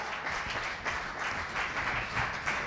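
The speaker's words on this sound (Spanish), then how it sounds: "Denle un aplauso al Señor" A church congregation applauds during a Spanish-language sermon, a dense, continuous wash of clapping that holds at a steady level throughout the short stretch with no voice over it.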